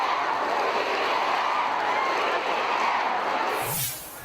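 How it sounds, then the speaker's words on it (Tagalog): Dense crowd noise of cheering and applause fills a jam-packed indoor political rally welcoming the Philippine president, steady and loud throughout before dropping slightly near the end. "Palakpakan at hiyawan kasi ang sumalubong kay PBBM sa jam-packed na event."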